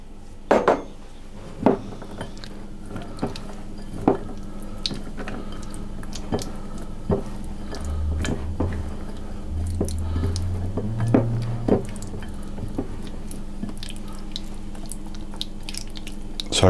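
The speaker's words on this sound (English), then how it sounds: "I'm going to put the conserve or the jam into the blueberries and just stir it around to mix it" A spoon stirs blueberries and jam together in a bowl, giving sparse clinks against the bowl over soft wet squelching, close and quiet.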